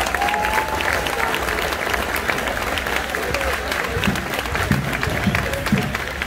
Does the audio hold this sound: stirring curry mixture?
no